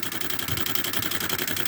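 Nitrous fuel pressure safety switch throttling on a 1996 Camaro, a steady buzzing, fluttering mechanical chatter over a running engine, close and continuous without talk.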